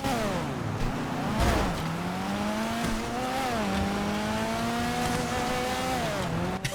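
The Obey Omnis rally car in GTA 5 Online drives through snow, its engine revving and shifting through rising and falling pitch sweeps with occasional tire noise, loud and continuous with no talking.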